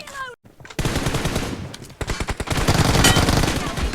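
Gunfire in the video game PUBG, rapid bursts of automatic shots that rattle on and off and then into a dense, loud volley, heard close with a voice talking briefly at the start.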